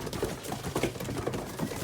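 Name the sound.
pigeons cooing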